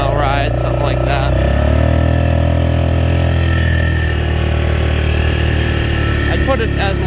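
A 2000 Polaris Trail Boss 325 2x4 quad idles and revs steadily nearby, its engine drone continuous and loud for several seconds, with a slight rise in pitch midway and background voices underneath.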